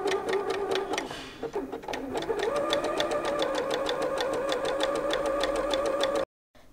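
An Usha Dream Maker 120 sewing machine stitches a rolled saree edge with a D foot, running in a steady, fast, even needle rhythm after a brief start-up, close and alone until it cuts off abruptly.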